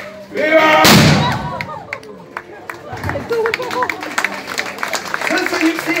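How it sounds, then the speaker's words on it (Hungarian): Ceremonial cannon salute at a historical reenactment during a Budapest 20 August celebration: one loud, booming blast near the start, followed by crowd cheering, clapping and talk. "Éljen Hunyadi, ágyúval tisztelek!"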